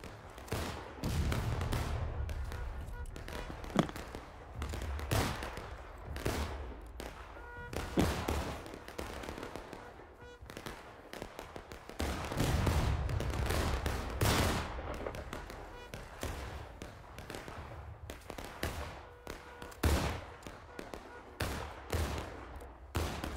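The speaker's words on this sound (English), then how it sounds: "Open fire! Open fire!" Musket volleys roar through a Civil War battle in the game War of Rights, with dense, overlapping gunfire in repeated rolling bursts. Some blasts are close and loud, others are distant, and brief shouting carries over the shooting.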